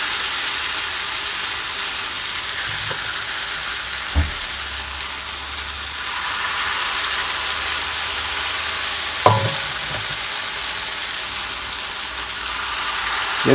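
Jamaican fritters frying in hot oil, a steady close sizzle and hiss running throughout, with a few soft knocks from the pan and no talk.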